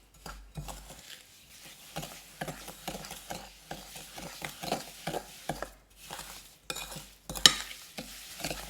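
Castor oil is stirred into a homemade sugar scrub in a bowl, making soft gritty scraping and tapping strokes in a steady rhythm, close and quiet, with a small clink of a utensil.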